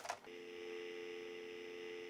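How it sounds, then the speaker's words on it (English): Dial tone from an FXS card in a homelab router, a steady continuous telephone tone that starts after a brief click and holds evenly, alone with no talk. "we do have dial tone, so that's probably the first thing to check"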